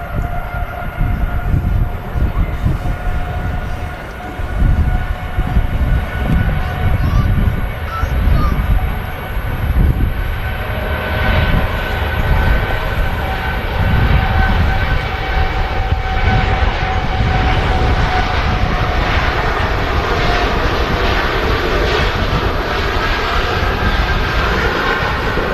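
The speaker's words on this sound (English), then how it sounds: "Dash 8 departure, guys." A De Havilland Dash 8 turboprop departs from Manchester Airport with a sustained, loud propeller drone and engine roar that swells and holds, steady tones running through it and little talk.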